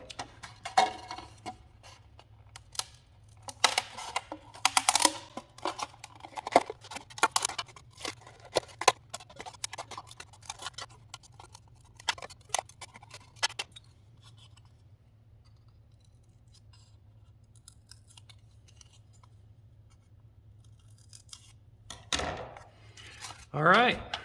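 Foam plate glider parts cut out at close range, with clusters of crisp snips and crackly foam cutting, a quiet gap in the middle, then a final burst of cutting.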